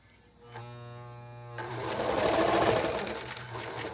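A sewing machine stitches seams on a small quilt block. A faint motor hum comes first, then a sustained, close, rapid whirring clatter runs steadily to the end.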